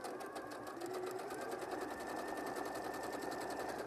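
A sewing machine runs steadily, stitching a pocket line with a fast, even mechanical whir and rapid needle rhythm, moderately close and uninterrupted throughout.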